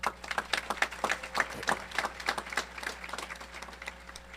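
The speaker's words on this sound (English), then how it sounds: "Please give him and his team another round of applause." Applause at a high school graduation ceremony, with distinct individual claps standing out and slowly thinning over a few seconds, moderately loud in a large venue.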